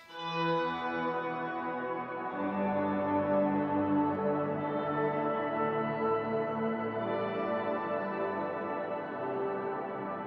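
Guitar played through a shimmer reverb with the pitch shift set an octave down, giving a dense, sustained wash of layered tones that swells and hangs throughout, dark and ominous, with no talking.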